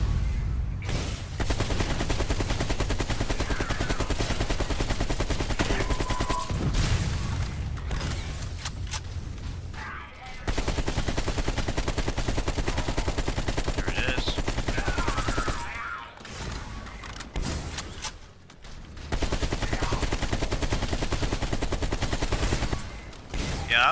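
RPK light machine gun, a modified AK-47, fired in Cold War Zombies, with long sustained bursts of automatic gunfire broken by brief pauses, loud and dense, with faint game sounds between volleys.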